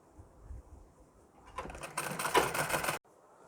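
A sewing machine stitches a border onto a blouse sleeve: after a quiet start, a fast mechanical rattling run grows louder for about a second and a half, then stops abruptly.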